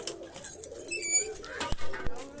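Pigeons perched on a loft roost coo in low rolling calls, close and fairly clear, with a couple of sharp knocks and a brief high chirp mixed in.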